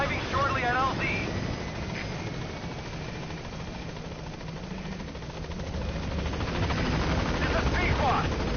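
A steady, dense rotor drone of the Pequod helicopter holds throughout as it comes in to a landing zone in Metal Gear Solid V, loud and continuous with a faint swell near the end and bursts of radio talk mixed in.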